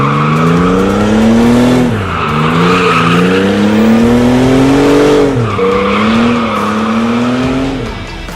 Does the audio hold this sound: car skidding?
yes